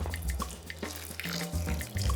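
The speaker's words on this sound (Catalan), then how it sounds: "E hi butzas d'aigua calda." Hot water poured from a tap over pitted dates in a kitchen, a steady close splashing and gurgling stream with small drips and bubbling as the liquid fills the bowl, continuous throughout with no talking.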